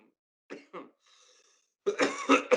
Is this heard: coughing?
yes